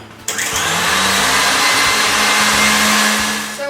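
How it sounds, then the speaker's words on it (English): Electric hand mixer whirring steadily as it beats an egg into chocolate chip banana bread batter, starting abruptly and holding a continuous loud motor drone with no talk. "I'm just going to add the 2nd egg into this, and just let it beat for about a minute"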